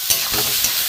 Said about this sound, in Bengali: ভেজে নেব নুন আর হলুদ দিয়ে